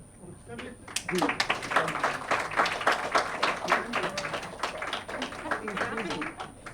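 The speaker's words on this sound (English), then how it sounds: "I'm clapping." Scattered hand clapping at a poetry event, with irregular, fairly close claps mixed under ongoing talk from people in the room.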